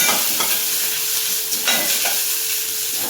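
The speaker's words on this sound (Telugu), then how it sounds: "టమోటా ఫ్రై అయ్యే వరకు" Tomatoes fry in a pan for chicken curry, a steady sizzle with occasional stirring scrapes, close and without talk.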